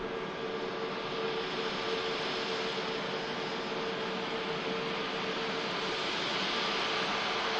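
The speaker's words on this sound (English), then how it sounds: "There's EasyJet that's just arrived from Paris" An EasyJet airliner newly arrived from Paris taxis past at Manchester Airport, a steady broad roar of jet engines with a faint whine, even and unbroken throughout, no talk.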